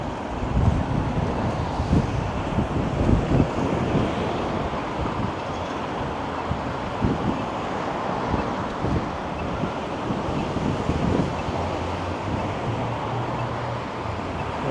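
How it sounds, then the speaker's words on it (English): Strong gusts batter the microphone on a Toronto street walk, making a loud, constant roar with low rumbling buffets and faint traffic underneath throughout. "The wind is just going nuts right now."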